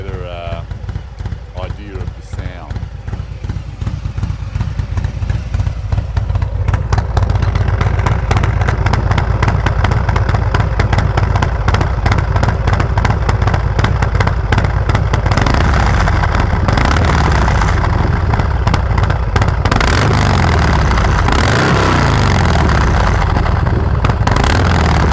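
A Harley-Davidson M8 114 Street with slip-on mufflers is heard up close at the exhaust. It gives a loud, fast-pulsing V-twin thump that picks up and holds a heavier, louder roar in the second half.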